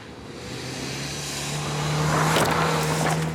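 A car is driven through a gatepost during a staged chase stunt for a film, its engine a steady close roar that swells louder toward the end, with brief sharp bursts near the finish.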